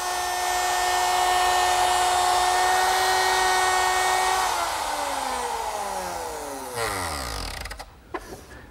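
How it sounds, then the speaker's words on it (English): A router fitted with a 1/4-inch slot cutting bit whines loudly at a steady high pitch while cutting slots in rails, then spins down with a falling tone as it is switched off. "The slots are cut in the rails using a 1/4-inch slot cutting bit"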